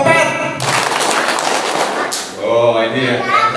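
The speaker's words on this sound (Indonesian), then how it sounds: "Tepuk empat" A dense burst of clapping from a group of schoolchildren playing a four-clap game fills the middle, framed by talking before and after.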